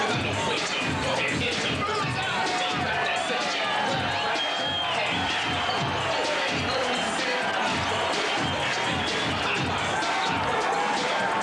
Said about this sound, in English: And the crowd saluting Evander Holyfield.